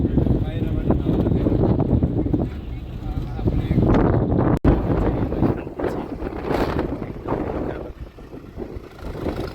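Wind rushes over the microphone in a steady low roar with gusts on a mountain road near Jomsom, Nepal, while a voice speaks beneath it.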